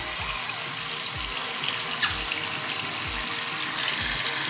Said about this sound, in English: I have to put the water in like this.